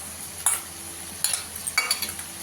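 Spice paste with beaten yogurt stirred in hot oil in a pan over low gas heat, a soft steady sizzle with a few brief scraping stir strokes, fairly quiet and close.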